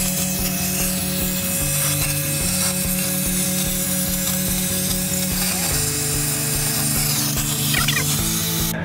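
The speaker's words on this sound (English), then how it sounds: "I fabricated a vacuum with a piece of pen" A homemade vacuum sucking debris from an M113 engine runs with a loud, steady mechanical whir throughout, a grinding, rattling texture and a pitch that shifts a few times, like a small motor straining under load.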